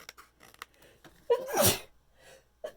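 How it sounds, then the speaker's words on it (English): A single loud sneeze bursts out after a few quiet breaths and small movements, then things settle back to near silence. "Oh, I knew a sneeze was coming."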